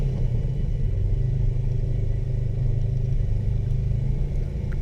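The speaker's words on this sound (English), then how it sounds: "We wanted to try it out and get the feel of driving in the sand." Polaris RZR side-by-side rolling over sand at Blow Sand Hill, a steady, loud low engine rumble and drone that holds even throughout, with no speech.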